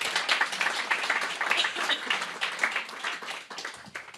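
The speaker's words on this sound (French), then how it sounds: "Donc, on les applaudit" Audience members at a medical society meeting on coloproctology applaud, a lively mix of individual claps rising and falling in bursts, fairly close and without talk over it.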